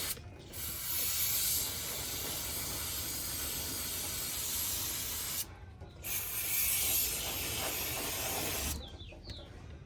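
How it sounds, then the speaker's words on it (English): Brake cleaner sprayed onto a welded BMW E36 differential, two long, loud hissing bursts close up, separated by a short pause and followed by a brief final spritz. "let me grab my brake cleaner so I can clean it down"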